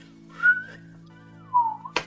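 A person imitates a wolf whistle with their own lips, producing two soft rising-and-falling whistles close to the microphone, followed by a short sharp noise at the end.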